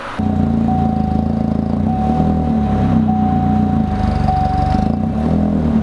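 A turbocharged Chevy Cruze engine idles steadily and loudly up close, a continuous low rumble with a faint high whine running through it and no voices.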